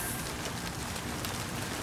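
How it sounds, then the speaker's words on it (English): Rain falls outdoors as a steady, even hiss of drops, fairly quiet and continuous with no one speaking. "what a time for it to rain."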